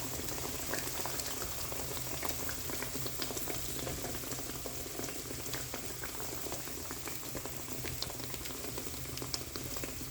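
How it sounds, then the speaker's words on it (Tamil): Steady bubbling and sizzling of a ginger, garlic, onion and green chilli paste cooking in hot oil on high flame, a continuous crackling fry with no voices. "கொட்டி இதை நல்லா ஹை ஃப்ளேமில் வச்சுருக்கேன். நல்லா இதை சாட் பண்ண போகிறேன்."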